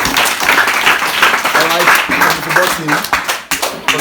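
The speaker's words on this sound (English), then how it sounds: "give her a round of applause" Audience applause and clapping for a student at a school self-confidence session in Ikorodu, a dense, steady patter of many hands lasting throughout, with someone talking over it.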